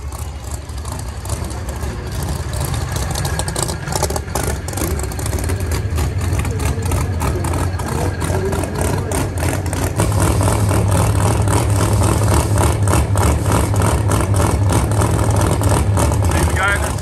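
Gas and diesel drag racing cars at Crossville Dragway rumble with heavy engines running continuously for the whole stretch, the roar growing louder and denser midway, while voices talk over the noise.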